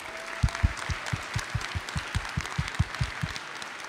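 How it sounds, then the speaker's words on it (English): Concert audience applauds the support family, a broad wash of clapping with a prominent rhythmic low thumping beat running underneath at a steady pace. "how about a round of applause for all the support family that helped"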